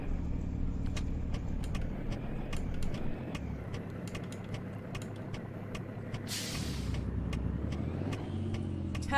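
A truck engine in American Truck Simulator hums steadily at low speed on a New Hampshire to Connecticut trip, with regular ticking clicks over the drone, a brief hiss of air near the middle and no talk.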